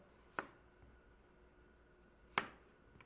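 A knife cuts up a tomato on a board in two sharp, isolated chops about two seconds apart, with quiet room tone between them.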